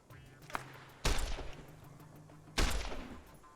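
Gunfire in Fallout New Vegas: a light shot, then two heavy close blasts about a second and a half apart that each trail off, over a low game hum.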